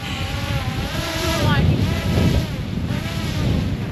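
Strong gusting wind batters the microphone outdoors, a loud rumbling buffet that surges and fades in waves over a few seconds.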